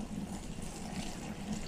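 Water pours steadily into a pot of sweet rice paches (Guatemalan tamales) from Quetzaltenango, a continuous close gushing and splashing that holds at an even level throughout.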